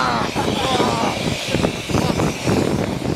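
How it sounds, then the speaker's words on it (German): A DC-8 cargo jet at Munich airport blasts its engines in a loud, steady, close-up roar that fills the whole stretch, with voices talking over it. "Jet Blast. Ja. Verspürst du ihn?"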